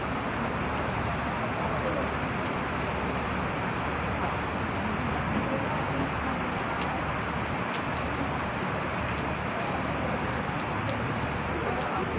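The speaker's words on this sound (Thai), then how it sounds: "ฟ้าเริ่มเปิดครับฝนเริ่มเบาลงแล้ว" Rain falling on a market tent at an outdoor market, a dense, steady hiss of drops striking the fabric with scattered sharper taps, loud and continuous from start to finish.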